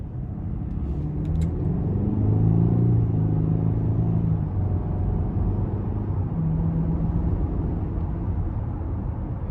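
A 2022 Cadillac XT5 Luxury with the 2.0T turbocharged engine accelerates under light throttle, a steady low rumble that rises gently in pitch from inside the cabin, with no talking.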